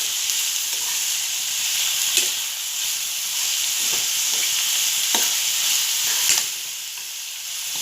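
Onions and green chilies frying in oil in a pan, a steady, loud, hissing sizzle close by with occasional soft stirring taps, easing slightly near the end, no talking.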